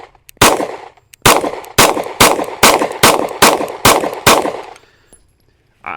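Rapid string of about nine loud pistol shots from a CZ P-10 C compact handgun at an outdoor range, evenly spaced and close, each with a sharp crack and short ringing tail, then quiet and a faint clink at the end.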